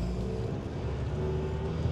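The Hobbycar Passport prototype car driving on a road, a steady low engine hum with a faint whining tone over rumbling road noise, close and continuous.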